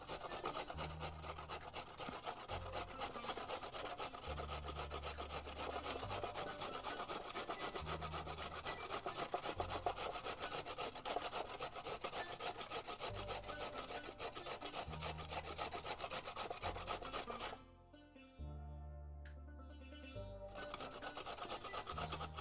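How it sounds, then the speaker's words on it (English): A carrot rubbed against a grater in a kitchen, steady rasping strokes over background music, with a short pause near the end before the scraping resumes. "I always kind of change how I hold the carrot when I get close to the end. Minimize the risk of grating thyself."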